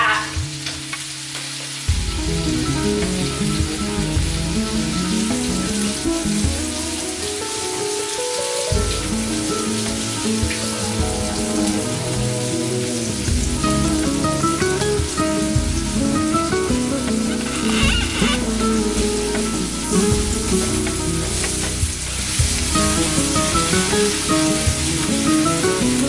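Chorizo frying in olive oil in a paella pan, a loud, steady, close sizzle and crackle that goes on without a break, with occasional stirring scrapes and spatters over the hiss.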